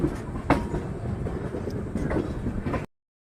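A 12057 Una Jan Shatabdi Express running on rails between New Delhi and Chandigarh at speed, with a steady rumbling clickety-clack and sharper wheel knocks near the start and toward the end, continuous and close for about three seconds.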